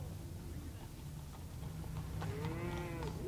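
Cattle in the Chicago stockyards heard on a mid-1950s stereo demonstration recording: a single drawn-out moo rises near the end over a constant, faint background of yard noise.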